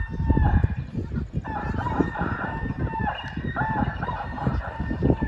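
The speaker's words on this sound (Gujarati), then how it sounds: "બહુચરમાના મંદિરે કુકડો બોલે" A rooster crows loudly several times in succession near a temple, its drawn-out calls rising over a busy background of other fowl and ambient noise.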